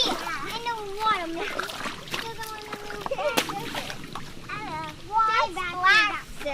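A child splashes in a shallow creek on a waterfall hike, with brief watery splashes mixed among lively child chatter and an adult voice talking close by.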